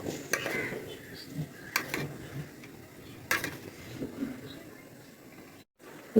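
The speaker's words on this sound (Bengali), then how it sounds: "নাড়াচাড়া করে দিলাম।" A spoon scrapes and clinks against a pot of chicken biryani in a few scattered metallic taps and stirs, faint and close, ending in a brief gap and a final clink.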